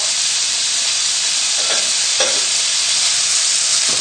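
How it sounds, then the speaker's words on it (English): Steady, loud sizzling of bacon frying in a hot pan, a continuous crackling hiss with a few brief stirring scrapes and no talking. "pop the bacon in and get that frying. The telltale sizzle is there"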